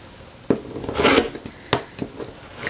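A blade cuts through several layers of fabric along a quilting ruler, giving a few short rasping swipes and soft scraping knocks close by.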